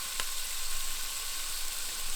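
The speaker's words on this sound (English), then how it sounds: "Got some hamburger frying up." Ground beef frying in a pan at a campsite in Yellowwood State Forest gives off a steady, close crackling sizzle with a brief sharp pop near the start.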